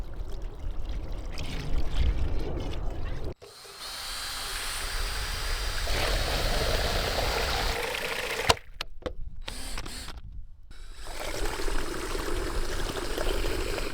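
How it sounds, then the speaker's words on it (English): Decking oil poured from a tin into a bucket and then mixed with a paddle stirrer, heard as a continuous liquid churning and sloshing with a few abrupt breaks, close and steady with no talking. "pour some of it into the bucket and then give it a mix with a paddle stirrer"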